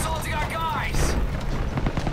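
A building collapses in the World War II shooter Call of Duty WWII, a heavy rumbling crash with booming low roar and debris noise that holds steady for about two seconds, while people talk over it.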